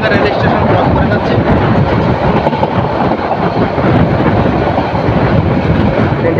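A train rolls slowly into a village railway station, a dense, steady rumble of wheels and carriages that stays loud and close throughout, with faint voices mixed in.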